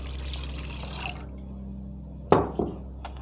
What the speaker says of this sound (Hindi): इसमें हम और पानी मिला देंगे